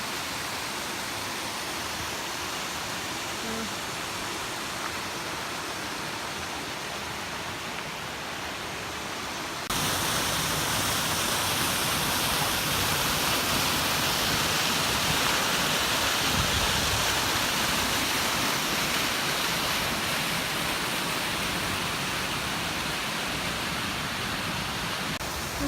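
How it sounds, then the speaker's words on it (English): Steady, full roar of a waterfall along a Black Forest hiking trail, a broad continuous rush that grows noticeably louder and closer partway through, with no voices over it. "So there is always one waterfall after the other one"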